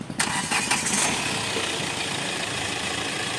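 A 2017 Hyundai Creta SX diesel engine cranks and fires up close, with a short burst of starter noise followed by a steady, even idle clatter.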